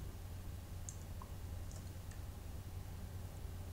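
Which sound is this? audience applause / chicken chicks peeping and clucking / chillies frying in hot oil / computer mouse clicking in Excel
computer mouse clicking in Excel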